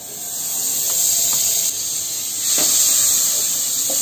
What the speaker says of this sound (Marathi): त्याच्यामध्ये 1 चमचा बटर टाकते